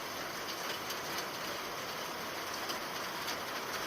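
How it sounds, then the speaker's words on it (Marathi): Rain showers fall over the Taloja area of Navi Mumbai as a steady, dense hiss, even and unbroken for a few seconds, with no voices. "नवी मुंबईच्या तळोजा परिसरातही पावसाच्या सरी बरसलेल्या आहेत"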